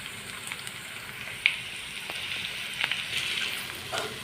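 Onions and beetroot frying in a pan give a steady, soft sizzle with faint crackles and pops throughout, close and continuous, with no talking.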